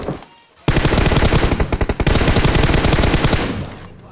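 Sustained automatic gunfire from the PUBG Mobile video game, a loud rapid stream of shots lasting about three seconds after a brief quieter burst.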